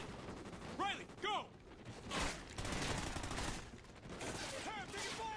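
Sustained gunfire in Call of Duty: Ghosts, a dense loud fusillade of overlapping shots with short whistling effects over it, and a voice shouting briefly within the fire.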